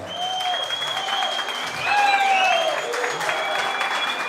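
Wedding guests applaud steadily at a Turkmen wedding celebration in Istanbul, with music tones and voices running through the clapping across the whole stretch.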